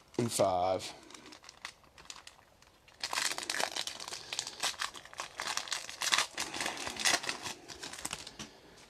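Football trading card packs are ripped open by hand, giving loud bursts of crinkly foil tearing and rustling that run for several seconds, with a person talking over them.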